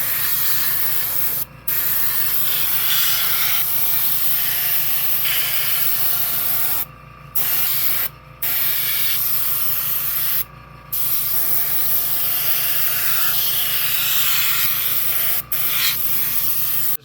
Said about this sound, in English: The next step will be airbrush the ties and rails.